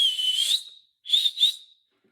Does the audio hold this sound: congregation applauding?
no